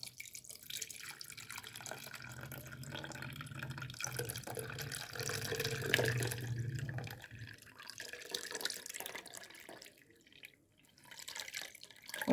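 Liquorice drink is poured through a strainer lined with cloth, giving a steady close splashing and trickling of liquid that thins out toward the end, with no voices.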